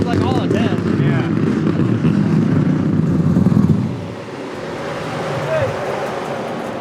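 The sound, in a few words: big-block engine of a Formula Drift car revving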